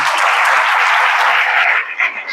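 A congregation at a Hindi Christian church service claps hands together in thanks to God, a dense, close burst of applause that holds steady and then thins out near the end.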